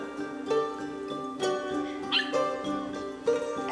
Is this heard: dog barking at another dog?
yes